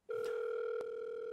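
A steady telephone dial tone starts abruptly after a faint click and holds constant, with a brief click partway through, close and clear with no talking.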